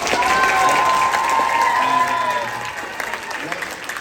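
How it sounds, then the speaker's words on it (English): Audience applause at a charter school gathering, clapping from a crowd that starts full and thins out over a few seconds, with faint tonal background sounds and some voices mixed in. "Can we give Lauren a round of applause?"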